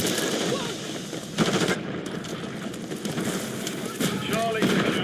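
Sustained rapid automatic gunfire in a first-person shooter match with an HRM-9 loadout, loud and continuous with dense overlapping bursts and battle noise, while voices call out over it.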